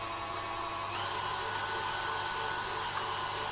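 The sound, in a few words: egg whites being whisked until frothy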